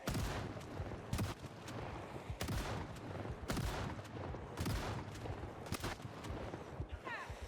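Repeated shotgun blasts in the zombie survival game Project Zomboid, loud and dense, firing in irregular bursts of several shots amid constant game noise.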